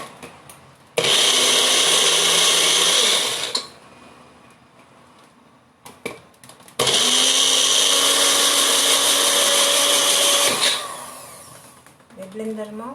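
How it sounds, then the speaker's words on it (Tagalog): An electric blender whirs loudly in two long bursts, a few seconds apart, with a brief quiet gap and faint clatter between them. "Blender mo nang mabuti."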